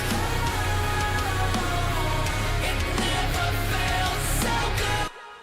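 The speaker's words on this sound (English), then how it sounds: "And this is the sound of music." Loud, dense music playing as a stream audio test, running continuously at full level before cutting off abruptly near the end.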